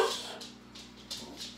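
A dog whimpering and whining near a countertop air fryer being set up to cook Old Bay wings in a kitchen, a few short high whines and yips in quick succession close by.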